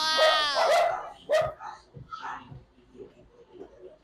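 A dog whines and yelps in high, wavering cries, then gives a short bark, with quieter rustling and softer whimpers trailing after.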